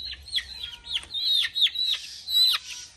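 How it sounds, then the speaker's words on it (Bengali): Young local chicks bought at a market cheep in quick, high, repeated chirps, close and fairly clear, with several calls tumbling over one another. "ছোট মুরগি নিয়ে আসলাম, দেশি মুরগি বাচ্চা"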